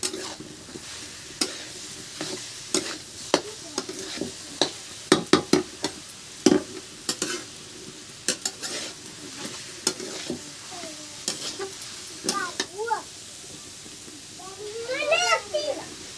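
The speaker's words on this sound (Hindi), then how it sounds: "साग को रखने के बाद हम इसे बहुत अच्छे से चलाते हुए 5 मिनट तक पकाएंगे फिर से।" Saag greens cooking with tomato paste in a pan, stirred with a series of sharp spatula scrapes over a soft sizzle, while children's voices and talk are heard in the background.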